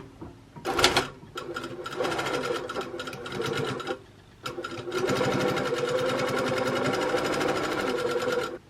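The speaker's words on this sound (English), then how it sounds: "we're going to sew 2 lines straight down the middle" A sewing machine stitches two straight lines down the middle of a fabric hair bow, its needle running in rapid steady bursts with a short pause between runs, close and clear with no talk.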